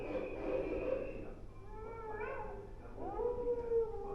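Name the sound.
wolves howling, recorded sound in wildlife museum display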